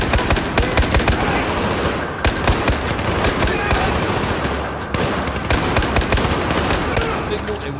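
Rapid machine-gun bursts and scattered rifle shots crackle loud and near in the Baku mission of the Battlefield 4 video game, with short pauses between volleys and voices faintly underneath.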